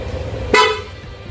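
One quick honk of a PIA car horn cuts through a steady low engine drone, loud and near, then trails off.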